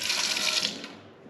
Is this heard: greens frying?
no